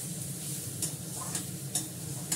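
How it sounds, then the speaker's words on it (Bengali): Snake gourd fries in a pan with a soft, steady sizzle while a spatula scrapes and taps against the metal in a few regular strokes, quiet and close, with no speech. "আমার চিচিঙ্গাটা ভাজা হয়ে গেল, এবার নামাবো।"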